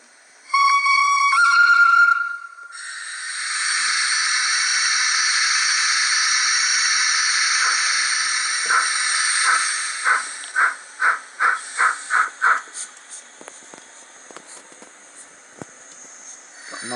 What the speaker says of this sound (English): It's a digital sound model with a Zimo sound decoder fitted from the factory.